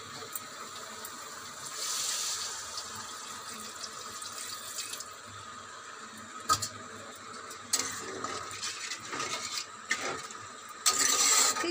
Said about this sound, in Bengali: এবারে আমি জল দিয়ে দিই।